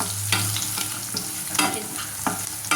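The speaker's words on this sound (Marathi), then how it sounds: "कांदा छान गुलाबी कलर मध्ये परतला की आपण यात कढीपत्ता टाकणार आहोत थोडासा" Chopped curry leaves hit chopped onion already frying in a pan, giving a steady sizzle with several scraping strokes as the spoon stirs.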